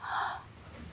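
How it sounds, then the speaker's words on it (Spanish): A single short breathy exhale, like a voice performing a sleepy yawn in a children's theatre story, loud at first and then fading within a second. "Y bostezó de sueño."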